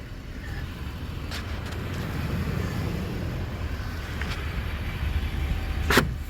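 A pickup truck towing a trailer pulls forward, its steady low engine and road rumble heard through open windows, with a faint clank near the end.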